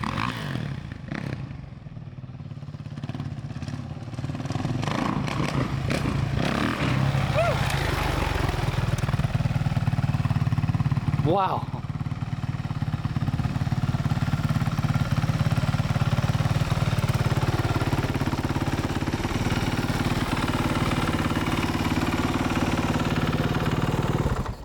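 A 2015 Kawasaki KX450F dirt bike engine runs loud and steady close by, with a brief sharp rev near the middle, while a person gives a short exclamation over the roar.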